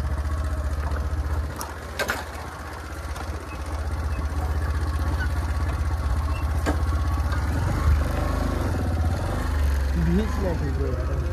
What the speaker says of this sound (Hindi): ट्रैक्टर